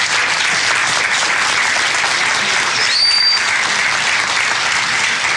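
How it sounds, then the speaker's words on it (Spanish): Church congregation applauding the fathers at a Sunday service, a dense, steady wash of clapping from a large room that holds at an even level throughout, with a brief high whistle cutting through midway. "Denle un aplauso a los papás que estuvieron el día de hoy."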